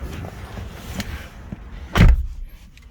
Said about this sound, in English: the door, it sounds solid, uh which it's something expected from the Lexus